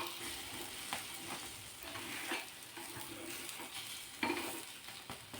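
Egg omelette sizzling and frying in a pan after being flipped, a steady close crackle with a few light scrapes of a utensil, no voices.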